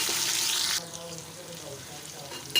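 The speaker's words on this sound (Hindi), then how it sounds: "अब मैं इसमें डालूँगी टमाटर और हरी मिर्ची। उनको थोड़ी देर के लिए हम पकाएंगे।" Tomatoes and green chillies hit a hot pan with browned ginger paste for a beef curry, a loud sizzle that quickly fades to a softer simmering crackle, with a brief clatter at the end.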